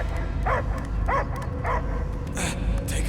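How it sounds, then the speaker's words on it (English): A dog barks in a Guardians of the Galaxy video game scene, with a handful of short, evenly spaced yips rising over a constant low rumbling ambience and music bed, fairly close and moderately loud. "I hear only barking."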